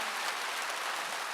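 A church congregation in Gunsan applauds continuously, a dense, even wash of clapping with no pauses, fairly faint and without speech over it.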